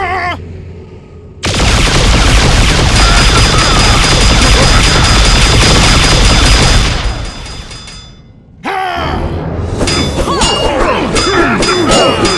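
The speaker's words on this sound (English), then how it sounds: "Full attack, all weapons." A loud, dense barrage of weapons fire from a video game attack, with continuous blasts and crashes, a brief drop near the end, then another burst of shots.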